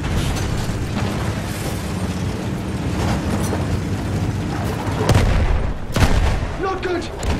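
Rumbling artillery explosions and gunfire in Battlefield 1 form a dense, continuous booming battle din, with a few heavier blasts near the end.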